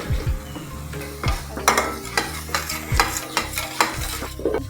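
Cumin seeds sizzling in a hot frying pan with turmeric and salt, a close crackling fry broken by repeated loud metallic stirring scrapes and clinks of a spoon against the pan.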